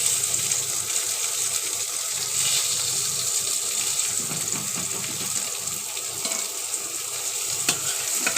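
Sliced pointed gourd (potol) sizzles steadily in hot oil in a pan, a dense continuous frying hiss close by with faint stirring scrapes, no talk.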